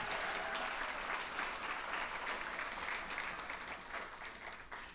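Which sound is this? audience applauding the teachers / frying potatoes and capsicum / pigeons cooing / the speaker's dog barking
audience applauding the teachers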